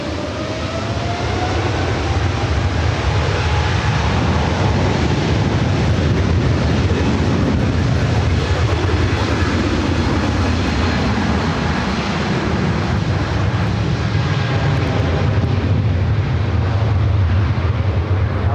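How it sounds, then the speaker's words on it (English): China Eastern Boeing 777 taking off at LAX on its way to Shanghai: a powerful sustained jet-engine roar with a deep rumble, loud and continuous for the whole stretch, with no talk. "China Eastern 777 at 300 yard heading to Shanghai."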